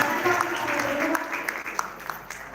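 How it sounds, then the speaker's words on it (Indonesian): Audience at a school arts festival gives a modest round of clapping that thins out and grows sparser toward the end, with a few distinct individual claps near the close. "Baik, boleh tepuk tangannya?"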